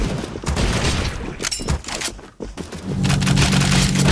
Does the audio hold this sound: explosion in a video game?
yes